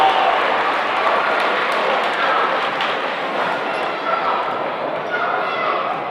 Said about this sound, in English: Big round of applause for these 2 boys coming out right now.